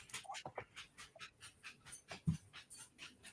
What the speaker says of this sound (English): I hear the puppy.